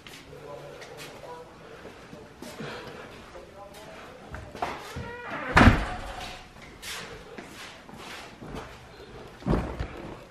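Car doors are opened and shut, with two solid thumps standing out among softer handling sounds and voices nearby.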